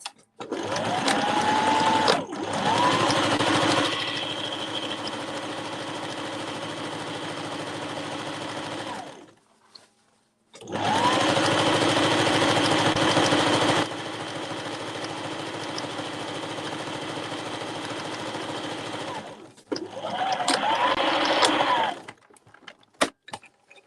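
A sewing machine runs a zigzag stitch at length 4 and width 2 along a fabric edge for a printed beach bag, whirring steadily in three long close bursts separated by short pauses.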